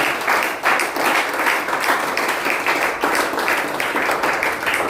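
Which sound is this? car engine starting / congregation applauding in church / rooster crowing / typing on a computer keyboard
congregation applauding in church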